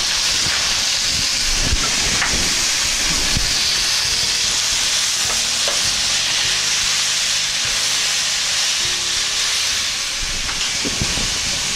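Red sweet peppers fry in hot oil, a steady loud sizzle and hiss that never lets up, with faint clatter from the pan now and then. No one speaks.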